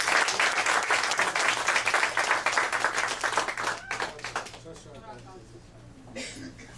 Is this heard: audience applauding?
yes